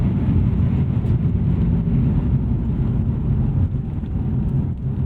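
Engine of a 2011 Infiniti G Coupe with a naturally aspirated six-cylinder, a steady, dense low droning rumble heard from inside the car, constant and fairly loud throughout with no talk.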